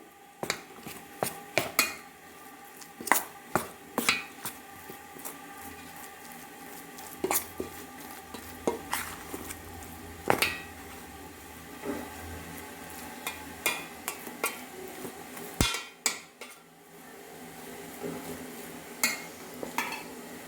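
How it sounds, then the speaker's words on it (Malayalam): Puttu flour being mixed with milk and grated coconut in a bowl, a spoon or hand scraping and knocking against the vessel in uneven bursts with soft squishing in between, close by. "ഇതിലേക്ക് അരക്കപ്പ് ചെറു ചെറിയ തേങ്ങായും കൂടെ എല്ലാം കൂടെ മിക്സ് ചെയ്യാം"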